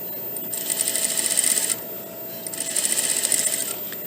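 A sewing machine stitches a garment collar in two close bursts of rapid, even needle chatter, with a short pause between and no talking.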